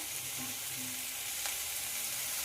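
Ginger-garlic paste frying in hot oil with pumpkin pieces, a continuous close sizzle and crackle filling the pan, even and steady throughout with faint stirring, no voices.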